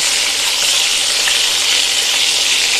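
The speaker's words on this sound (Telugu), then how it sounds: "మధ్య మధ్యలో కలుపుకుంటూ ఈ దొండకాయలు అనేది మనం ఫ్రై చేసుకోవాలండి" Ivy gourd (dondakaya) pieces fry in a pan with a loud, steady, dense sizzle that holds without a break, close up, with no voices over it.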